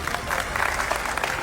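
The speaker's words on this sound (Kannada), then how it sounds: "ಚಪ್ಪಾಳೆ ಚಪ್ಪಾಳೆ" A short burst of audience clapping rings out at an award presentation during the Hasanamba Film Festival 2025, even and sustained for just over a second.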